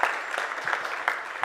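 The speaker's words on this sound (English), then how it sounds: "I think we owe them a hand of applause" Short burst of audience clapping at a conference on South Africa thirty years after democracy, a scattered, moderately quiet patter of hands with a few distinct claps standing out.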